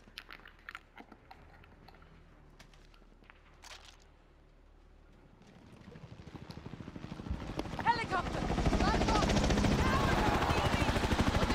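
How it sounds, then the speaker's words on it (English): Helicopter in Call of Duty: Modern Warfare, its rapid, thudding rotor chop growing in from quiet to a loud, continuous roar over the last several seconds, joined by gunfire-like rattles. "Helicopter!"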